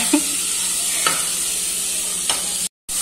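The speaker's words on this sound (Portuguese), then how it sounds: "Deixando ela fritar bastante aqui." Food sautés and fries in a pan on a home stove, giving a steady sizzle with a few faint stirring scrapes and a brief dropout near the end, with no one speaking.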